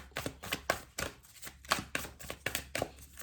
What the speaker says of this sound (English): 3 more shuffles